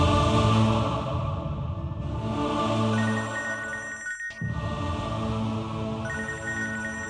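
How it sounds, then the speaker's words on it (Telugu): A telephone rings loudly and repeatedly in a domestic scene, a steady electronic ring pattern with one brief pause before it resumes. "మీ డాడీ ఫోన్ చేస్తున్నారు"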